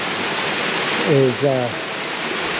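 Steady broadband rush of Cascade Falls waterfall in Mill Valley's Cascade Canyon, continuous and moderately loud throughout, with a person briefly speaking over it.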